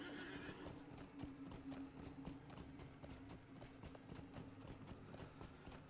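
Horse hooves clip-clopping at a steady rhythm in the video game Lord of the Rings Online, with a whinny near the start, quiet and continuous throughout.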